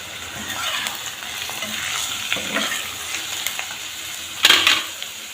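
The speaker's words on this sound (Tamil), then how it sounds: "இது சேர்த்து நல்லா கொஞ்சம் நேரம் நல்லா எண்ணெயிலே வதங்கட்டும்." Onion, tomato and curry leaves frying in salted oil sizzle steadily while a spoon stirs them with scraping strokes, ending in a louder clatter of the utensil against the pan.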